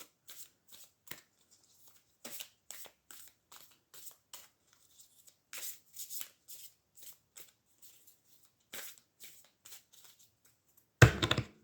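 Tarot cards are shuffled for a reading in quick, crisp riffles and flicks that come in short bursts separated by pauses. The sound is quiet and close, ending with a louder final riffle.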